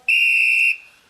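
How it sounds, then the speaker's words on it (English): One sharp, steady, high-pitched whistle blast, loud and close, lasting under a second before cutting off to near silence. "The noise of Sarah Sharp blowing her whistle tells me that forever must be up"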